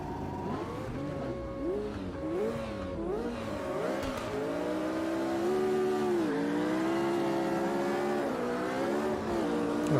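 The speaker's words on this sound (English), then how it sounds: "McLaren got a good jump off the line there." Race cars launching from the start at the Red Bull Ring in Automobilista 2, engines revving hard and rising together in climbing, overlapping pitches, steady and close with a brief tire squeal.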